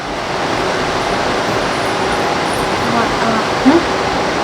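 An electric fan set to rotate runs steadily indoors, giving a continuous, fairly loud broadband whoosh with no pauses throughout.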